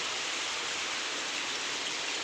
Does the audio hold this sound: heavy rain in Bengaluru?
yes